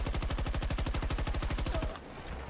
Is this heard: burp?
no